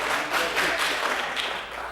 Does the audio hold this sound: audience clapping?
yes